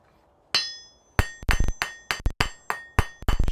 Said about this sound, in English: never strike hard enough to actually leave a hammer mark